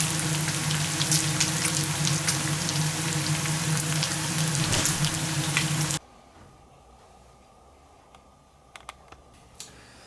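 Bacon frying for quiche Lorraine gives a dense, crackly sizzle with fine popping for about six seconds, then cuts to near quiet broken by a few faint clicks and spits.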